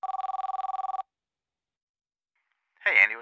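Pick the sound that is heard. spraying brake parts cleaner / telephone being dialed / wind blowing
telephone being dialed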